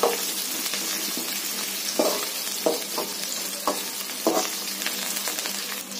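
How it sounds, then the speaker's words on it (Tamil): Onions sauté in a pan for a spinach dish, giving a steady soft sizzle with occasional scraping stirs, close and fairly quiet, with no talking. "வெங்காயம் நல்லா வதங்கிட்டு இருக்குது"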